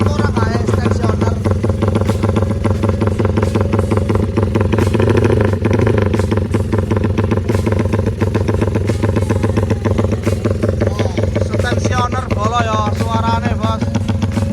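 Motorcycle fitted with a Ragasukma exhaust idling to warm up, a loud, steady, throbbing engine note close by that runs the whole time, with someone talking over it.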